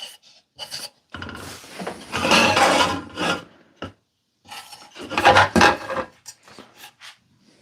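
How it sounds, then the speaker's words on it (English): A drill bores into a plastic car headlight housing in two long raspy, grinding bursts, with short bits of work between them, close and fairly loud. "This is where we drill."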